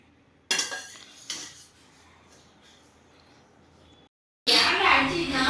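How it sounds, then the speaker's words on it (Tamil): Sautéed rice for a Mexican rice bowl scraped and tipped from a pan into another bowl with a utensil: two sharp clinks early, a quiet stretch, then a loud burst of scraping and clattering near the end. "இதை இன்னொரு பவுலுக்கு ட்ரான்ஸ்ஃபர் பண்ணிக்கலாம்."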